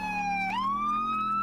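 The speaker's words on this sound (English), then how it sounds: "Sorry for deafening y'all with this thing ambulance." Ambulance siren in a roleplay video game, a loud, close electronic wail that holds steady and then sweeps upward into a higher sustained tone, with no talk over it.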